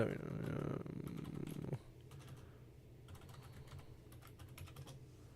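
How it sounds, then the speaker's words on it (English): Typing on a computer keyboard, quiet close clicking keystrokes following a louder stretch of voice-like sound at the start. "now I'm typing in hyperlink"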